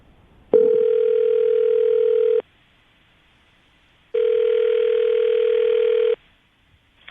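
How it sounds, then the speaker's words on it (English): A telephone line sounds two long steady tones separated by a silent gap as a call is placed, loud and clear with nothing else over them. "I'm going to call him right now, see if we can get him on the phone"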